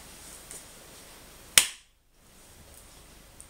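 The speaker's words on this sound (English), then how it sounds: "Clapping your hands always makes a sound." A single sharp hand clap rings out once, loud and close, then drops into near silence before a faint background hiss returns.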